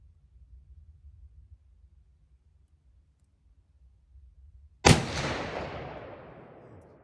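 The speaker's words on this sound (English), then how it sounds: "2 more shots at the lower left target" A single sharp rifle shot from a Winchester Model 670 chambered in .300 Win Mag, fired at a target while sighting in for hunting. It cracks loudly after a quiet stretch of low rumble and trails off in a long echoing decay.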